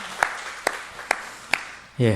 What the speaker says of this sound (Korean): 축하 박수로 한번 축하해 주실까요?